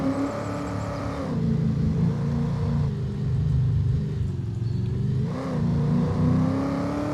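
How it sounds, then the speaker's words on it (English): A tractor or farm vehicle engine in Farming Simulator 25 drones steadily in a loud, close hum, its pitch rising and falling as the throttle changes, with no talking. "Engine sounds don't do it for me."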